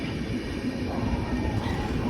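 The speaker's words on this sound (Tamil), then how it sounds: "The legendary Vaigai போகுதுதாங்க." Vaigai Express train passing Kilambakkam railway station, a steady broadband rumble of rolling cars held at one level for the whole stretch, moderately loud with no voices over it.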